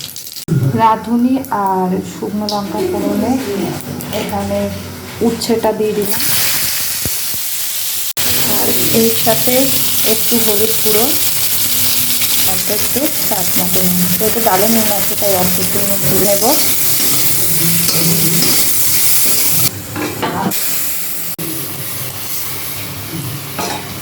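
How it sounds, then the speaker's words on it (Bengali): A dry red chili and radhuni tempering crackles in hot oil, a loud hissing sizzle running steadily throughout while someone talks over it for much of the time. "তেল গরম করে নিয়েছি একটা শুকনো লঙ্কা ফোড়ন দিয়ে দিলাম এর মধ্যে দিয়ে দিচ্ছি একটু পরিমাণ রাঁধুনি ফোড়ন"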